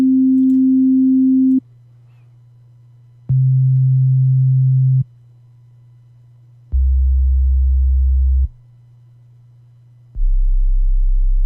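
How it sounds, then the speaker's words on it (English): A series of pure, steady sine wave tones at different octaves, each held for about a second and a half, stepping between pitches, with a constant low hum underneath throughout. "what a normal sine wave looks like at different octaves"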